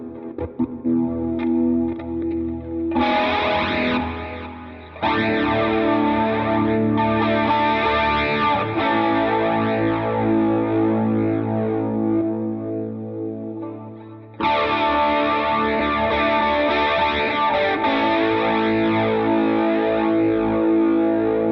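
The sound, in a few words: guitar tone through Positive Grid RIFF with distortion effects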